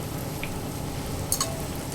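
Bacon sizzles and fries steadily in a pan with a dense crackling hiss, plus a brief clink of a utensil near the end.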